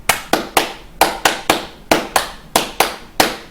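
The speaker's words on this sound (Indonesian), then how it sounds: "mari kita bersama-sama melakukan tepuk" A school scout group in Indonesia performs the Hizbul Wathan clap together, about a dozen crisp, loud unison hand claps in a patterned rhythm with brief pauses between clusters.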